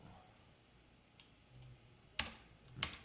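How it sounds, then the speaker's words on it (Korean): A few sparse, faint key clicks on a computer keyboard while typing a command, ending in two sharper, louder keystrokes about half a second apart, with quiet background between. "명령을 한번 두드려 볼게요"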